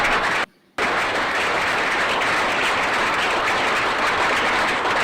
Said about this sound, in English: I hope y'all are clapping over there.